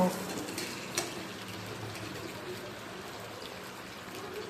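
Katla fish pieces frying in hot oil, a faint steady sizzle with occasional stirring clinks against the pan, no voices.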